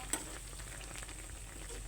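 Patola (sponge gourd) cooks with sardines in a pan, giving a soft, steady sizzle with faint stirring scrapes, fairly quiet and close with no voices.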